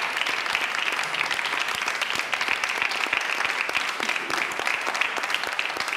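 A church congregation applauds after a mixed choir's performance, with dense, steady clapping that carries on evenly throughout at moderate volume.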